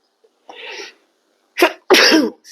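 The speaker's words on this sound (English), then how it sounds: "I'm going to have to sneeze again too" Sneezes from a yoga instructor, a short wet burst followed by two louder, harsher sneezes close together, near and alone with no talk.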